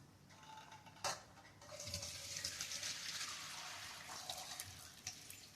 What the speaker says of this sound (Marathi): आता मी इथे एका भांड्यावर चाळणी ठेवली आणि त्या चाळणीत मी आता हे सगळं पाणी काढून घेणार आहे पुरणातलं.